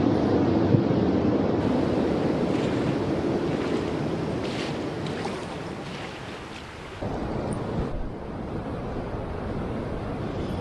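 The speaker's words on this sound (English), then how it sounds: "There's a pile of water coming down there." Churning, rushing water at the mouth of the Ottawa River, recorded from a small boat as a steady broadband roar with wind buffeting the microphone and no talk.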